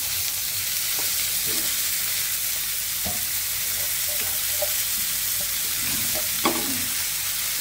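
Potato and eggplant frying in a pan for breakfast, a constant close sizzle with occasional scraping and tapping of a spatula spaced a second or so apart, no talking.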